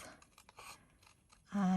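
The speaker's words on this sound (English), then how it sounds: "I need scissors and I'm going to cut that" Scissors cut around a die-cut paper shape in a few quiet, crisp snips. A louder sustained tone follows at the end.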